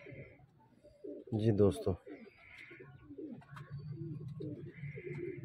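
Golden pigeon cooing in soft repeated calls, with a louder burst of coos partway through, while someone talks over it nearby.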